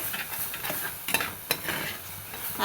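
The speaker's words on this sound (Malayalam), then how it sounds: "ഇങ്ങനെ നന്നായിട്ട് എണ്ണയിൽ തന്നെ മൂപ്പിക്കുന്നത് കേട്ടോ" Ground masala paste for a Kerala sardine curry sizzles in hot oil, a soft steady frying hiss broken by a few sharp scrapes of stirring, close and fairly quiet with no voices.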